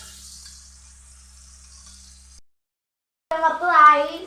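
Fish fry in hot oil with a soft, steady sizzling hiss for about two seconds. Silence follows, then a voice speaks nearby.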